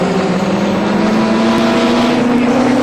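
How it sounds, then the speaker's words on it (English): A 1984 touring car driven by Brock pulling out of the pits at Sandown during the Castrol 500, a steady loud engine drone with a rising pitch and no breaks throughout. "Brock is out of the pits."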